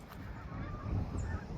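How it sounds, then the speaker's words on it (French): Geese honking in the open air over a garden, faint and somewhat distant, a few calls rising above steady outdoor rumble and wind with no voices. "les oies sont de retour"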